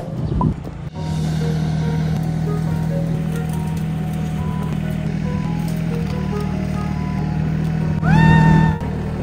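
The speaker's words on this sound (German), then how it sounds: "Und ich versuche das jetzt mit dem Traktor aufzuheben und dahin zu führen, wo wir es brauchen" A tractor engine drones steadily nearby, with a hydraulic whine rising near the end as a pallet is lifted.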